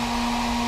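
Hair dryer blowing steadily on the back of a 2017 headlight housing to soften its adhesive, a continuous close whir with a strong motor hum throughout and no talk.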